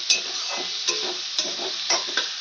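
Chopped medium tomatoes tipped into a pan of frying ginger-garlic paste for chicken darvesh, a steady close sizzle with a few soft stirring knocks and scrapes.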